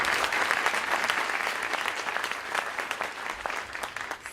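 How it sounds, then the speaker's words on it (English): A university event audience at a justice and ethics center gives a sustained round of applause, steady dense clapping from many hands that tapers slightly toward the end. "Please, a round of applause."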